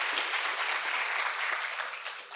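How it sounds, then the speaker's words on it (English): Warm audience applause for musical performers at a university address, steady and even clapping from a large crowd in a hall, fading slightly at the close. "Let's give them another round of applause."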